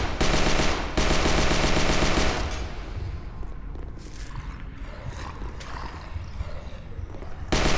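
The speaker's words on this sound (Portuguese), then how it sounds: "Acabou a munição, só pode ser isso." Rapid automatic gunfire from the VR zombie game Horde Z rattles in loud bursts for the first couple of seconds, then drops away to quieter game noise, with a brief burst returning at the end.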